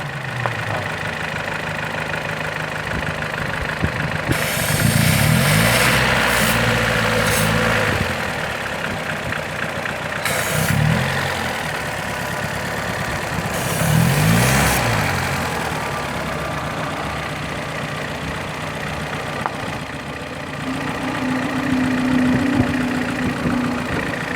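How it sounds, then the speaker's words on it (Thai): A Toyota car engine idles with a steady low rumble throughout, while a few louder bursts of noise rise and fade over it. "สังเกตเสียงเครื่องยนต์ไหมนะ"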